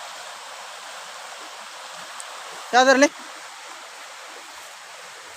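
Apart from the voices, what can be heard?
stream flowing near a house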